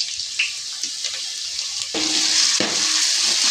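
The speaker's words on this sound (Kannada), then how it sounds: "ಈಗ 2 ಸ್ಪೂನ್ ಅಲ್ಲ ಬೆಳ್ಳುಳ್ಳಿ ಪೇಸ್ಟ್ ಹಾಕ್ತಾ ಇದ್ದೀನಿ" Garlic paste sizzling in a hot pan with onions browning in oil, a steady frying hiss that swells louder about halfway through as the paste goes in, with occasional stirring scrapes.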